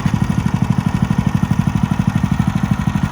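A lawn-mowing machine's small engine runs steadily and close by, a loud, fast, even chugging with a rhythmic low throb and no voices over it.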